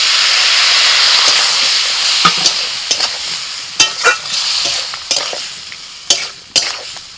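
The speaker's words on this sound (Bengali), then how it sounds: "অল্প একটু জল দিয়ে মশলাটা কষিয়ে নিই।" Spice masala of chopped tomato, red chilli, coriander and cumin powders fries with a splash of water in a pan, giving a steady loud sizzle and hiss punctuated by sharp scraping stirs every second or so.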